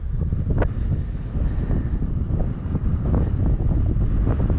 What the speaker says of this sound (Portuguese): O vento tá rasgando.